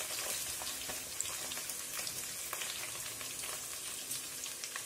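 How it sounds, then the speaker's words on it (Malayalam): Sliced onions with salt sauté in a hot pan for a chicken curry, giving a steady, close crackling sizzle with scattered small pops and no voices. "സവാള ഒന്ന് നല്ല രീതിയിൽ വഴറ്റി ഇടാം"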